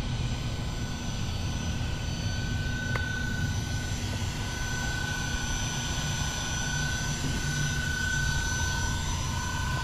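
An Arrma Outcast 8S EXB Venom Edition RC car on a Hobbywing Max6 1100KV motor runs with a loud, steady high-pitched whine and broad drone that hold evenly throughout, with no talking.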